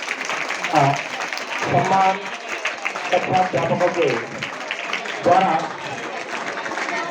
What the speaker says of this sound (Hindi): आप लोग तालियां बजाइए